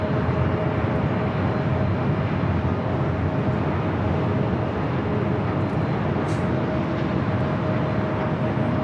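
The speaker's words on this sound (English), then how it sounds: "This is Delta Airlines 794 coming in from Detroit on the 737-900ER." A Delta Airlines Boeing 737-900ER arriving from Detroit lands at LAX, its jet engines a loud, steady broadband roar that holds throughout with no voices.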